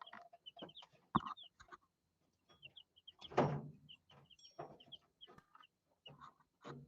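Chickens cluck steadily in a coop at night, with repeated short clucks and a louder squawk partway through, close by and unaccompanied by speech.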